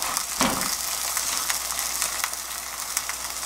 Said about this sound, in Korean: 기름이 자글자글해야지 맛있게 굽혀지거든요